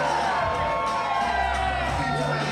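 A wrestling crowd at a Holland event murmurs and cheers in a dense, continuous roar, with scattered shouts and whoops rising out of it.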